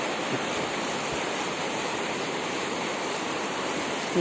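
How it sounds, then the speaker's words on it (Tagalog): Floodwater pours into a house in a steady, loud, rushing wash of water noise. It is close and continuous, with no voices over it. "Ito, bumabaha. Grabe yung baha."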